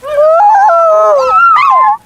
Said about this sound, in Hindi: वह जोर जोर से आवाजें निकाल रहा था